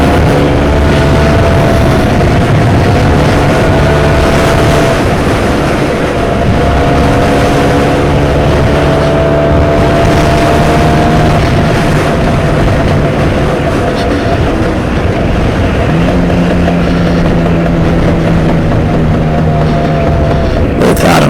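A Stella LML scooter ridden around orchards in Southington, Connecticut: a loud, steady small engine drone with wind rush, rising and falling in pitch as it accelerates, recorded close on the bike.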